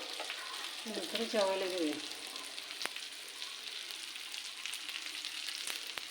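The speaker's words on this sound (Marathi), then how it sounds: "तर आपली मच्छी झाली का बघूया तळून." Fish frying in a pan, a soft continuous sizzle with crackles, briefly under a short spoken line near the start, then alone.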